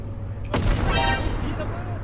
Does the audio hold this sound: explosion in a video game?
yes